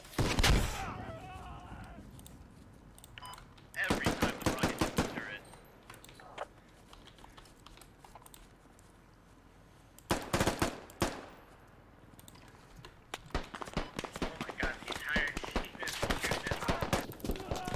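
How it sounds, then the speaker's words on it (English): Video game gunfire rattles out in several rapid automatic bursts separated by short quiet gaps, fairly loud and dense during each burst. "Keep shooting into that half, okay?"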